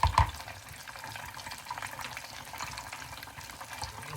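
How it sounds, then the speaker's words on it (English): Soft, continuous sizzling of arancini frying in oil, quiet and close, with a couple of brief clinks at the start and no talking. "Really working up a sizzle now."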